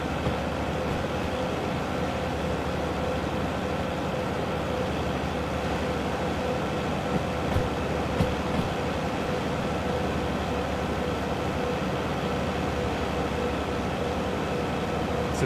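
The Super Lux streamer train in a video game runs steadily, a continuous broad rumble and hum from inside the carriage, even in level, with a couple of faint clicks.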